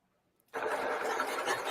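A handcrafted wooden model engine suddenly starts up and runs with a steady, buzzing mechanical whir after a moment of near silence, fairly close and even in level.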